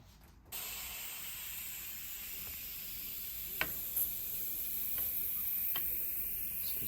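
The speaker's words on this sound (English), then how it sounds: "Grab your compressor or a suitable tubeless pump," An air compressor fills a tubeless bike tyre, a steady loud hiss of air running after a brief quiet start, with a few sharp pings and cracks as the bead seats.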